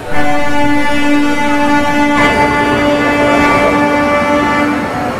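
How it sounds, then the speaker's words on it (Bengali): An express train's loud, sustained horn blares over the rumble of the train pulling away from a platform, the tone holding steady for several seconds. "মাত্র 1 মিনিট লেট করে 6:16 প্ল্যাটফর্ম ছাড়লো ট্রেনটা"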